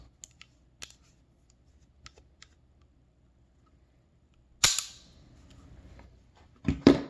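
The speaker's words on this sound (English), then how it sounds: "Oh no, I dry fired it." A gun is dry fired, giving a sharp, close metallic click, followed by a second snapping click moments later, with faint light taps before them in a quiet space.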